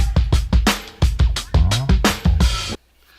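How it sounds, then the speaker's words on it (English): Sampled drum loop lifted from a song for beat making: punchy kicks and crisp snares in a tight, steady groove, loud and upfront, ending abruptly into near silence. "So I took this drum loop from a song,"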